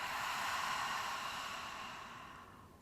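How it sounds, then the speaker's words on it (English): A deep cleansing exhale through the mouth during a yoga flow, heard alone as a soft, breathy rush of air that slowly fades away over a few seconds. "Big cleansing breath. Inhale through the nose. Exhale, release."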